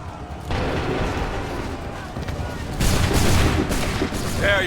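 Musket volleys crack out in Assassin's Creed III Remastered, dense bursts of gunfire with a heavy rolling boom, loud and close, a second volley following soon after the first.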